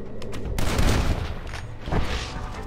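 Rapid gunfire from a minigun in the Red Dead Redemption video game, a loud sustained burst of shots with booming low rumble, easing briefly before another heavy burst near the end.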